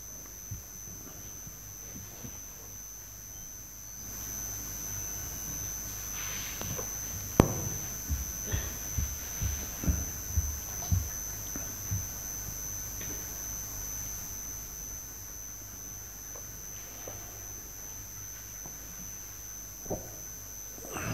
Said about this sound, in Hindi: ये पंखा बंद कर दो, आवाज करता है।